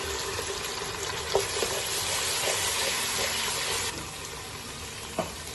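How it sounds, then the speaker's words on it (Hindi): Garlic-ginger paste frying in ghee for chicken changezi gives a steady close sizzle with a few sharp clicks and pops. The sizzle eases slightly near the end. "अब इसमें जाएगा लहसुन अदरक का पेस्ट, 1 चम्मच डालेंगे इसमें, और इसकी बुनाई करेंगे 3 से 4 मिनट"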